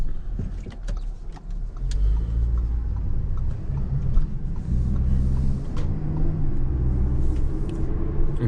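Audi Q3 heard from inside while driving: a steady low engine and road rumble with faint cabin rattles and clicks, continuous and even, no talking.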